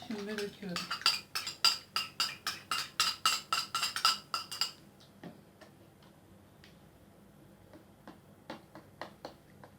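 A metal spoon stirs yogurt thinned with milk in a bowl, giving a rapid run of bright rhythmic clinks against the bowl rim for several seconds, then only scattered softer taps.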